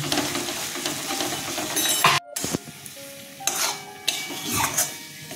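A spoon stirs and scrapes a sizzling vegetarian ash gourd stuffing in a frying pan, with a brief silent break and then several sharp scraping strokes and clinks of utensil against metal.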